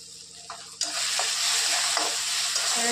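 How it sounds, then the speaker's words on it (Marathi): Red chili powder and asafoetida frying in hot oil in a pan, a steady bright sizzle that jumps up suddenly and holds, with a few stirring scrapes along the way. "छान परतून घेणार आहोत"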